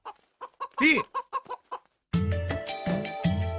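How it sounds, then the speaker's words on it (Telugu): A chicken clucks in a short series of close, squawking bursts after jumping in a comedy film scene, followed by a sudden loud, noisy burst of sound. "అబ్బా కోడి దూకింది చూడు"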